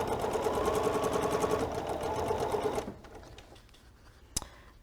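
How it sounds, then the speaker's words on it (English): A sewing machine stitches flying geese quilt pieces with a fast, even mechanical whir and needle chatter, close and loud for about three seconds before stopping, followed by quiet handling and a single sharp click. "I'm going to line up my edges and I'm going to sew."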